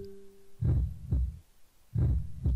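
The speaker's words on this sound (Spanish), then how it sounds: "Este latido es espantoso." Heartbeat sound effect in the visual novel game DRAMAtical Murder: Re:connect, two pairs of deep, booming lub-dub thumps, close and heavy, over a faint low hum.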